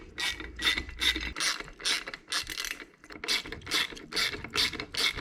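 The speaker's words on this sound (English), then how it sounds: "Now with all 3 nuts started, we'll go ahead and tighten down the bolts themselves." A hand ratchet clicks steadily in repeated strokes as it tightens the mounting bolts and nuts of a curved laydown license plate on a Harley-Davidson, with short pauses between bursts, close and fairly quiet.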